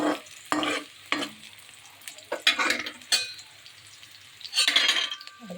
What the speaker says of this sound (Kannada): ಬೆಳ್ಳುಳ್ಳಿ ಮತ್ತು ಜಜ್ಜಿರೋದು ಈರುಳ್ಳಿ ಮತ್ತು ಜಜ್ಜಿರೋ ಬೆಳ್ಳುಳ್ಳಿ ಹಾಕಿ ಚೆನ್ನಾಗಿ ಫ್ರೈ ಮಾಡ್ತಾ ಇದ್ದೀನಿ